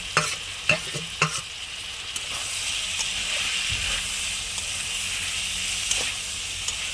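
Tomato and capsicum frying in a pan, opening with a few sharp spatula scrapes and then settling into a loud continuous hissing sizzle, close up with no talking.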